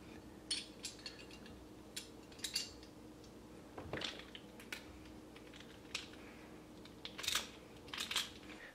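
Small metallic clicks and ticks come from a lock nut being threaded and tightened onto a homemade DSLR viewfinder loupe rig, quiet and irregular, close up with no talking.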